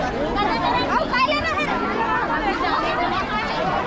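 Busy crowd chatter at a village madai fair market: many overlapping voices form a constant babble close by, with children's voices mixed in.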